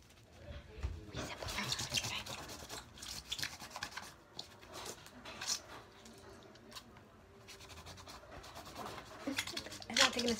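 A wet napkin wipes and dusts the bottom of an object, giving close, irregular rubbing and scrubbing strokes in uneven bursts with brief pauses between passes.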